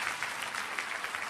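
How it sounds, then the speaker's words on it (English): Audience applause at a startup seminar, steady dense clapping from a crowd throughout a short moment, fairly even in loudness with no voices over it. "Give a round of applause."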